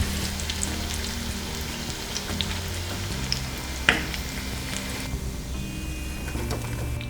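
Fish 65 frying in a pan, a steady crackling sizzle of hot oil with scattered pops and one sharp clink midway, heard close and alone beneath a faint low tonal hum.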